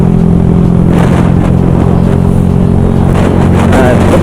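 A Yamaha YZF R125 125cc motorcycle engine runs loudly through its stock exhaust, which still has the baffle fitted and no stainless steel downpipe, holding a steady, close drone with slight rises in pitch.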